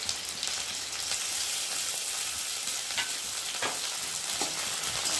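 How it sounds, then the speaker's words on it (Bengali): Sliced onion frying with garlic, ginger and cumin paste and slit green chilies, a dense, even, rain-like sizzle with faint occasional stirring scrapes underneath. "এবার দিয়ে দেবো রসুন বাটা, আদা বাটা আর জিরে বাটা, আর দিয়ে দেবো কটা চেরা কাঁচা লঙ্কা।"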